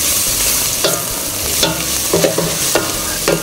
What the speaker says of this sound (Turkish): Evet, soğanları iyice pişiriyoruz.